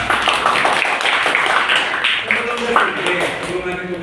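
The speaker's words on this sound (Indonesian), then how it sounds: "tepuk tangan." A classroom group claps hands in a quick, fairly regular rhythm of sharp slaps that continues for several seconds, with voices mixed in.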